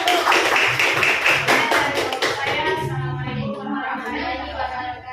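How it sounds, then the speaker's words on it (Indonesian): Classroom applause for a student group, a dense burst of many hands clapping that fades out over a few seconds, loud and close, with faint voices underneath. "kalau sudah sesuai beri aplaus untuk kelompok 1"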